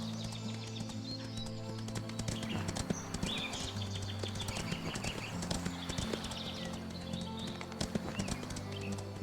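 In the Windstorm farm game, a horse walks with clear, evenly paced hoof clops over a low humming background, accompanied by faint birdsong and no speech.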